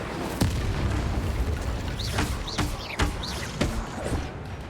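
Incendio fire spell casts in Hogwarts Legacy: dense roaring, crackling bursts with several sharp booming hits spaced about a second apart, loud and up close over a steady noisy bed, no talking.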